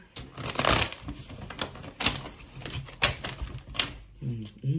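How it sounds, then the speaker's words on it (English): Tarot cards being shuffled close by, rapid riffles and slaps in several bursts, with a short murmur of voice near the end. "Let me shuffle some more."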